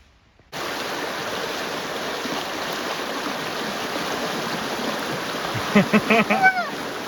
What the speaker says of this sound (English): And it's like water bubbling up into the spring.